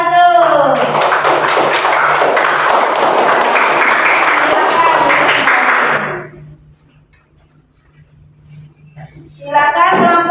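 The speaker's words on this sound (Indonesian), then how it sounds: "tepuk tangan buat kelompok 1" A classroom audience claps for a student group after its presentation, with dense, loud applause lasting about six seconds before it fades into near-quiet and then a voice speaks.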